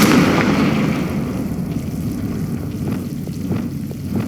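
A Confringo blasting spell explodes in Hogwarts Legacy, one loud booming burst at the start that fades into a rumbling, crackling tail.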